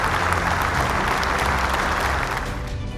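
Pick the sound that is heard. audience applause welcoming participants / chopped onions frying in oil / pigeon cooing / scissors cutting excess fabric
audience applause welcoming participants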